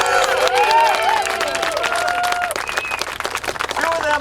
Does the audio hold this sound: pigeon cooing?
no